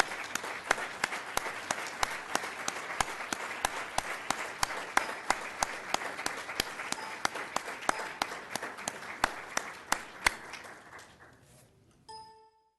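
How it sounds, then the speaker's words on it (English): At a school board meeting the audience applauds its board members with sustained clapping in an evenly spaced rhythm. The sound is moderately loud and fairly near, then fades out at the end, leaving a few faint tonal pings. "Please join me in giving an applause to our school board members."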